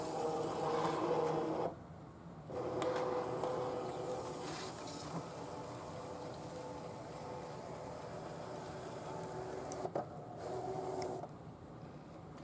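A craft cutting machine hums and whirs steadily while scanning before cutting coasters, with a few brief pauses and clicks as the carriage moves. It is faint and nearby, with no talking.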